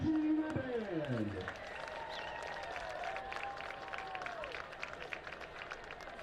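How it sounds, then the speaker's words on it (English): Crowd applause at a high school football game's halftime for the Green County Tech Marching Band, a distant, sustained patter of clapping following a loud announcer's voice at the start. "a big round of applause for the Green County Tech Marching Band"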